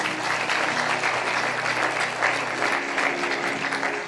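An audience at a sermon bursts into loud, sustained clapping, a thick even wash of many hands close by with no speech over it.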